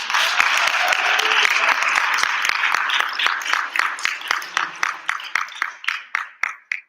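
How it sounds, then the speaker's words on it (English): An audience at a Bharatanatyam arangetram applauds in a thick burst of clapping that holds for several seconds, then thins into a few scattered, slowing claps before fading out, with no voices over it. "Please give her a round of applause."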